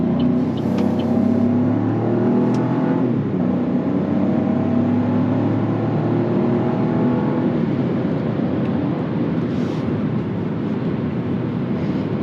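A 2024 Buick Envista Avenir on the move, with a steady low engine hum mixed with continuous road roar and wind rush from inside the cabin, evenly loud throughout with no voices.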